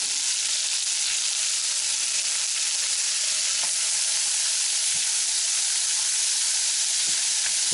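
Minced shallot and garlic sizzle and fry in a pan for a bacon jam burger, a steady bright hiss with occasional small pops and stirring clicks, close and continuous with no talking.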